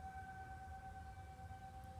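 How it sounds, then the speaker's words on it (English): Distant emergency sirens wail faintly outdoors in a residential neighborhood, a steady sustained tone under low background rumble, with no talk. "You hear those sirens?"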